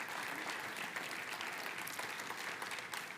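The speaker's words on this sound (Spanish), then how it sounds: "Dele ese fuerte aplauso al Señor." A church congregation applauds steadily, a dense, even wash of many hands clapping throughout, moderately distant with no break.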